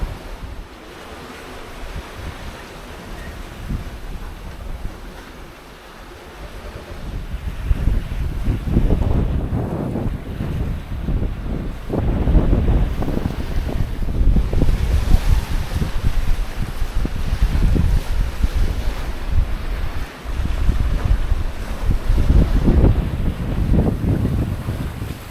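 Sailboat running fast downwind under a gennaker between Saint Martin and Virgin Gorda: a loud, continuous rush of wind buffeting the microphone over surging, splashing waves, building stronger partway through.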